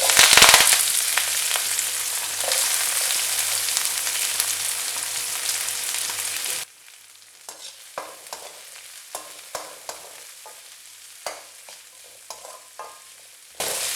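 Garlic, onion and curry leaves sautéing in hot oil for a crispy yam roast. Loud, bright sizzling for the first half drops abruptly to a quieter crackle broken by scattered spatula scrapes and taps.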